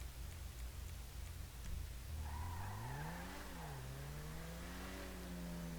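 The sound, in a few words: car accelerating in the video game Grand Theft Auto V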